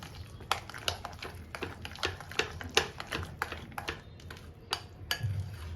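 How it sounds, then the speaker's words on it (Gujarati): Saffron pistachio shrikhand being mixed in a bowl with a spoon, giving a rapid, irregular series of close clinking and tapping strokes against the bowl. "પિસ્તાની કતરણ એડ કરી દેશું અને ફરી સરસ રીતે એને મિક્સ કરી લેશું"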